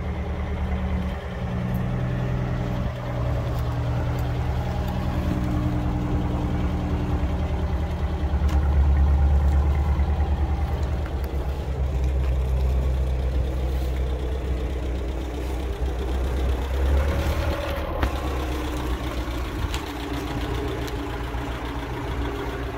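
A GAZ-21 Volga car engine idles steadily with a low rumbling drone, close by and continuous, with slight swells in loudness and no voices.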